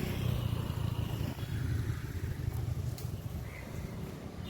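An auto rickshaw engine putters past on a road on Munroe Island in Kollam, Kerala, a steady mid-pitched motor drone that stays close and fairly loud throughout.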